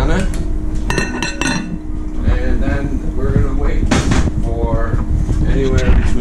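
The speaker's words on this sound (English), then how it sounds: "Give that a nice mix and we'll pop the top right on it" Pot of Spanish mushroom soup being stirred and covered, with repeated clanks and clinks of a utensil and lid against the metal pot, loud and close, under continuous talking.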